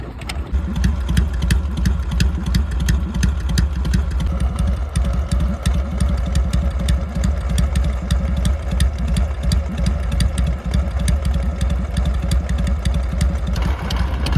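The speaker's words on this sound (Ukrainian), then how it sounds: "Просто він на холостих працює. І як приємно слухати звук вихлопу." A Dnepr MT motorcycle engine idles close by with a steady, throbbing exhaust burble that stays loud and even the whole time.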